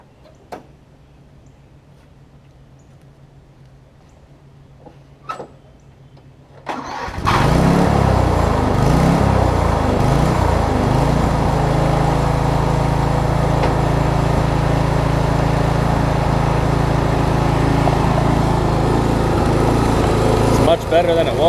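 A Snapper rear-engine riding mower's small engine, its carburetor freshly cleaned, cranks after a few faint clicks and catches, then runs at a steady, loud idle close by for the rest of the time.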